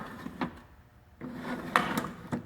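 Metal drawers on a vintage SPG International B-524 toolbox slide shut in a few separate clunks, close and fairly loud, with quiet gaps between the closures.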